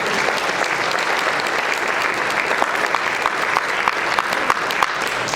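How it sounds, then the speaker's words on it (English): Loud applause from a crowd, dense steady clapping that carries on throughout without letting up. "Can we give a round of applause to those folks?"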